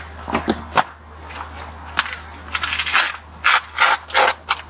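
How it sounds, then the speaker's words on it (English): A Toyota RAV4 rear seat lever clicks and ratchets as the backrest is pulled forward, giving a series of sharp mechanical clacks and rattles, close and irregular, with short quiet gaps between them. "you have to first pull the lever again, move the backrest towards you"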